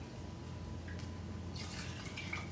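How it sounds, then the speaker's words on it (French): Chicken broth ladled over small coquillette pasta in a pan: faint liquid trickling and splashing over a low steady background hum, with no talk. "le bouillon de volaille, louche après louche"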